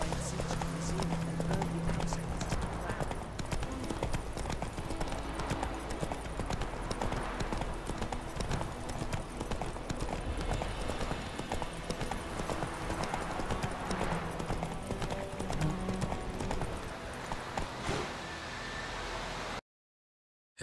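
Horse hooves clip-clop in a steady, continuous gallop rhythm in The Witcher 3 video game, carrying on under busy in-game ambience for nearly the whole stretch before cutting out abruptly at the end.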